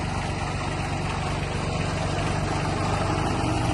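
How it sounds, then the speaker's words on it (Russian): Reversing a Mitsubishi MT165 mini tractor fitted with a rotary tiller: a constant loud engine hum with a low pulsing chug sounds up close, unchanging throughout, with no voices. "Переключаем реверс и поехали назад."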